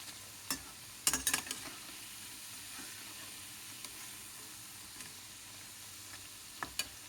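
Onion pakodi made with gram flour and rice flour deep-fries in oil with a faint, steady sizzle, broken by a few sharp pops and clinks near the start and end.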